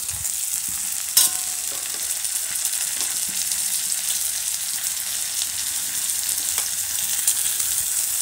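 Tomato pieces, salt, sugar and bay leaf fry in a pan for a home-style Bengali dumur curry, giving a steady, fairly loud sizzle that runs throughout with a brief clatter near the start and no talking.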